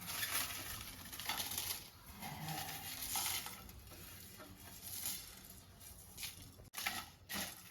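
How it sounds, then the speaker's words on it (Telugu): Spices dry roasting in a pan over a low flame for mutton biryani, giving a soft, steady sizzle with scraping stirs and light rattles of seeds against the metal, close and continuous with no talking. "ఇది సిమ్లో పెట్టుకొని రోస్ట్ చేసుకుందాం,"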